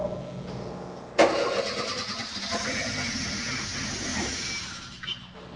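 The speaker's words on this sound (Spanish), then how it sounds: "procedemos a darle arranque al motor" A car engine cranks over with a sharp onset and keeps turning steadily for several seconds, loud and close, while its spark plug is tested with a test plug grounded to the engine.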